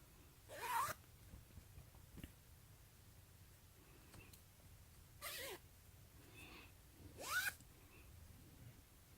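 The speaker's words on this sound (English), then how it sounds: "A zipper around the ankle area." Zips on the ankle zipper of track stripe pants, three short quick scrapes spaced several seconds apart, close and soft over faint room noise with small rustles between.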